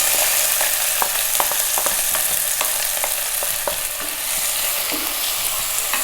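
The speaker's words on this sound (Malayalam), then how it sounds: "ഇതിലേക്ക് നമുക്ക് 2 വലിയ സവാള ചെറുതായിട്ട് അരിഞ്ഞിട്ട് കൊടുക്കാം." Chopped onions sizzle loudly in oil on a hot tawa pan for Indian street-food egg masala, a steady close frying hiss broken by regular clicks of a spatula stirring, with no talk.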